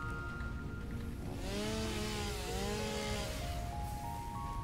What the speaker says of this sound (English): So with this chainsaw, I'm just going to remove the tree that was over here.